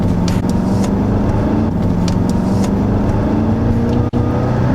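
A car engine roars loudly and steadily throughout, a continuous throaty rumble with rising tones as it accelerates, briefly dropping out near the end.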